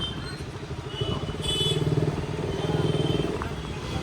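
A Bajaj Pulsar motorcycle being ridden, its engine a steady throbbing pulse that swells slightly as it pulls, heard close from the rider's position with wind noise.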